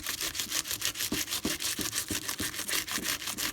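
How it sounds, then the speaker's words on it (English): A Big Shot die brush scrubs back and forth across cardstock in a steady rhythm of about a dozen quick strokes, a dry, close scratching with no talk. "I'm going to use my Big Shot die brush on that."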